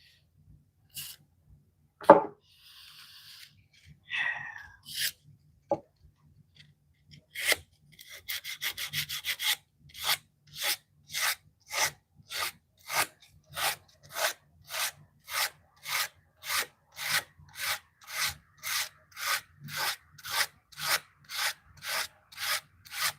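Leather is roughed up by hand with 220 grit sandpaper, a few scattered scrapes first and then a long series of steady, evenly spaced rasping strokes, close and fairly loud.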